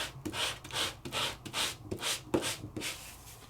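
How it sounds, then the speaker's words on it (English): A 3-D scrapbook embellishment being sanded so its white core shows through, heard as about seven steady, evenly paced scratchy back-and-forth strokes, close and fairly quiet. "you can sand this and the white will come through"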